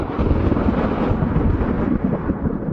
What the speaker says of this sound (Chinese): 外面又是一道惊雷炸响